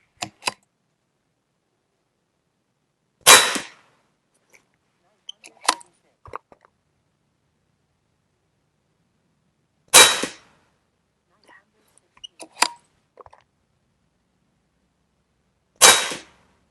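AirForce Texan air rifle firing 85 grain Neelson Specialty Ammo slugs: four sharp, loud shots spaced several seconds apart in quiet surroundings, each followed by faint clicks and handling noises of reloading.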